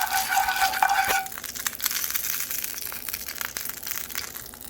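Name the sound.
stirring in olive oil in a pan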